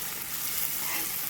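Tomatoes cooking in oil in a pan, giving a steady, close sizzle that stays even and unbroken throughout, with no voices.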